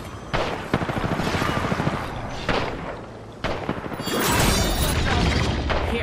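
A grenade explosion and gunfire erupt in a shooter video game, with loud booms and rattling shots in several bursts, followed by a sustained roar of blasts, with almost no voice.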